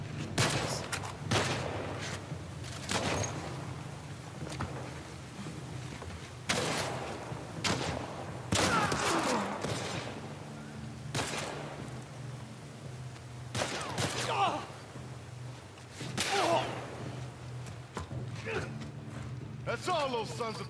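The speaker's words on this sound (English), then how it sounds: "Shotgun." Repeated shotgun blasts in The Last of Us Part 1, sharp loud bangs spaced a few seconds apart over a steady low rumble, with voices speaking between shots.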